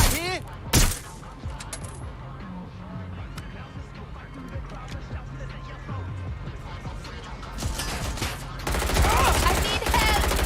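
Rapid bursts of gunfire in Watch Dogs: Legion, with a sharp loud volley early and dense crackling shots later, layered over a steady game soundtrack.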